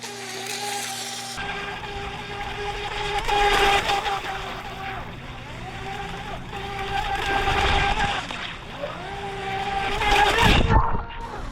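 A Rage RC Lightwave 400BL mini RC boat runs in a pool, its small electric motor whining steadily and surging louder in repeated bursts as it turns and speeds up, with a person talking over it.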